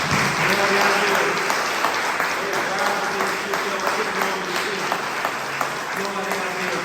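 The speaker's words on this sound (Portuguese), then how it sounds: "Aplauda o nome dele." A church congregation claps steadily and fairly loudly throughout, a dense, continuous patter of many hands with a few voices mixed in beneath it.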